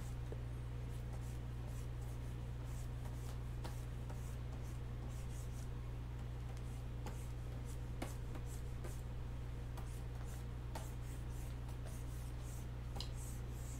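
Pencil drawing a caricature figure on paper, with faint, steady scratching strokes and light ticks over a constant low electrical hum, no talking.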